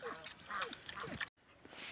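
Several ducks quack in quick bursts close by on a frosty farm morning, with a brief silent gap before softer quacks and faint rustling resume.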